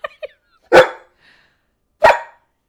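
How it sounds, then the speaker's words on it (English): A dog gives two loud, close barks about a second apart, preceded by a couple of faint whiny yips. "He just gets whinier every time you say bark."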